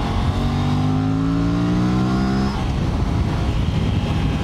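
An Aprilia RS 457 motorcycle engine revs up with a rising, steady drone that climbs in pitch for about two and a half seconds, then drops into a rough rumbling roar with wind noise, loud and close.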